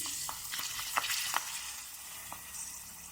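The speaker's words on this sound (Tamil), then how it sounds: "எண்ணெய் நல்லா சூடானதான் பப்படு ஃப்ரை பண்ணிக்கலாம்" Quiet crackling and sizzling of papadum frying in hot oil, with a few soft pops scattered through the short stretch.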